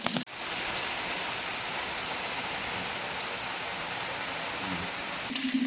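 Steady rain falling in a village during the morning, a continuous even hiss of moderate loudness that barely changes, with no talking.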